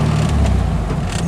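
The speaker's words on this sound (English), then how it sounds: "Short shifting into third." A car engine accelerating, then short-shifting into third gear, a loud, close, steady mid-pitched drone that dips slightly as the gear changes, with no speech.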